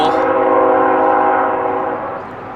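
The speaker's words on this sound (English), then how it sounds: "We got a train coming." A train's horn blares loud and close beside the old Salisbury Viaduct trestle, a sustained chordal tone that holds for about two seconds, then begins to fade as the train approaches along the track.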